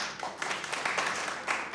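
A studio audience claps in a steady, dense patter of applause at moderate volume on the Pakistani comedy show Hasna Mana Hai with Tabish Hashmi's Eid special, with no clear speech over it.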